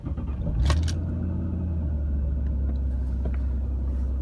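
A 4th-generation Ford Taurus engine cranks with a brief burst of starter noise, then catches into a steady low rumbling idle that carries on evenly, fairly close.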